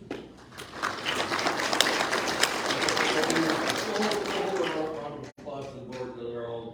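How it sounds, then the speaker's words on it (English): Audience in a room at a marathon awards ceremony applauding the board, steady clapping lasting several seconds under a speaker's voice, then tapering off as talk continues. "Applause to the board that are all sent out."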